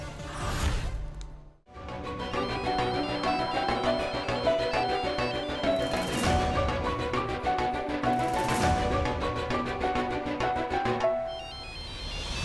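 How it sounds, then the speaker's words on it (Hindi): A phone ringtone plays a steady electronic melody for several seconds, loud and close, with a brief pause near the start. "फोन बज रहा है"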